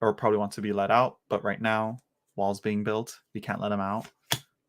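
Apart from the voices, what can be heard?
No everyday noises stand out.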